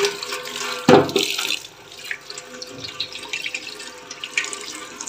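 Water from a tap pours into a pot with a loud splashing onset, then runs and trickles more softly at close range, in a home kitchen while sugar syrup is prepared.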